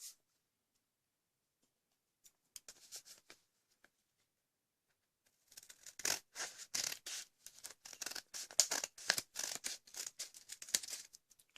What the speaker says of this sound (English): we're going to use a pair of scissors and we're going to cut across there.